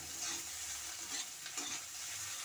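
Stirring a mixture of pointed gourd leaves with salt and turmeric in a hot pan, a soft scraping and gentle sizzle with a few spoon strokes, close and alone.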